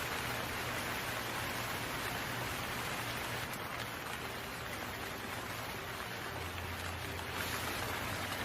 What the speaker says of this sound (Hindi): एक दिन जंगल में बहुत ज्यादा बारिश हुई